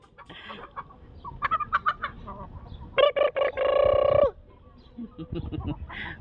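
A chicken clucks in short bursts, then lets out a longer drawn-out cackle, followed by a few softer clucks nearby.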